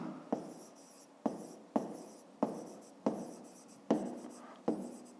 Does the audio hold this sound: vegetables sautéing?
no